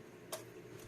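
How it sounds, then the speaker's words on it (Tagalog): A single sharp relay click inside a Challenger powered audio mixer with a burnt-out left channel, one brief near transient followed by a fainter second tick against low hum. "Sa testing lang natin kung magkiklik yung ating relay."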